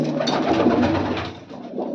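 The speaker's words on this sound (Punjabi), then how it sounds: "ਕੁਝ ਕਬੂਤਰ ਆ ਰਹਿ ਗਏ ਸੀ ਜੀ ਆਪਣੇ ਕੋਲੇ" Pigeons kept in a loft in Nimma Diun, Bathinda, coo softly in a continuous low throaty murmur, several birds close together with no voices.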